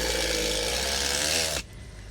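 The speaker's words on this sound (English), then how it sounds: "We're installing a couple screws to support." A power drill driving a screw through plywood on an old residential flat roof during repair: a loud, continuous whirring buzz that stops abruptly near the end, leaving quieter background.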